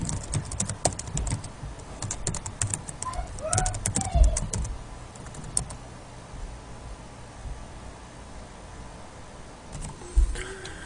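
A password goes in on a computer keyboard as quick, close clusters of keystrokes during the first half, then sparse clicks and quiet room noise, with a louder tap near the end.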